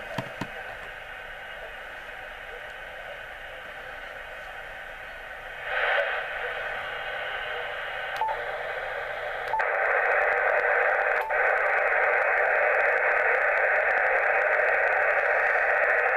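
A shortwave radio tuned to 20 metres carries broadband interference hiss from a Jaycar switch-mode DC power supply. The steady, loud noise jumps up in level twice and then holds, with no voices.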